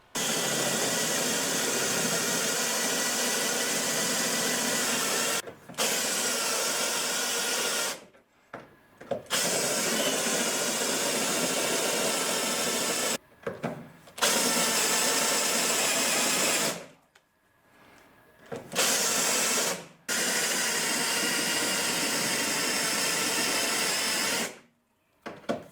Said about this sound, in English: and there comes the spot weld cutter